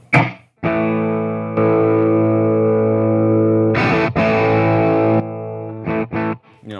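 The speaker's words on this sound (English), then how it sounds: "we're essentially going from a clean sound to a much louder, slightly overdriven sound." An electric guitar runs through a boost that pushes the amp into slight overdrive: several sustained, loud chords ring out one after another, with a short choppy strum near the end and no talking.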